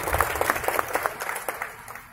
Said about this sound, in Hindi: ताली बजा के स्वागत करते हैं